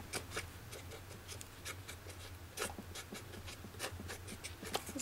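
A pencil or pen scratches and rubs across paper while drawing stems for a mixed media collage: quiet, soft strokes in short, uneven repeated bursts, close and faint, with no talk.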